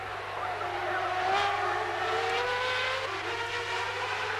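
Formula One cars of the 1994 Italian Grand Prix, including a McLaren Peugeot, race past with a continuous engine drone that rises and falls with gear changes, heard from a distance under steady broadcast noise.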